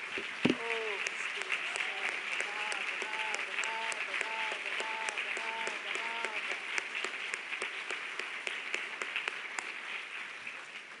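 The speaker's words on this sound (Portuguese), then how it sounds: "Dá uma salva de palmas para Jesus" A church congregation applauds steadily for about eleven seconds, a dense continuous wash of many hands clapping together with faint voices underneath.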